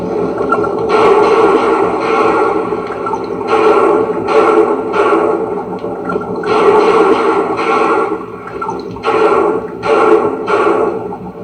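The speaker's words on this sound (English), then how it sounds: "Machine gun bullets from an airplane produce a sound like this when they hit the water" Rapid bursts of sharp, splashy impacts come in quick clusters over a constant noisy rush, as WWII aircraft machine gun bullets hit the water, heard underwater.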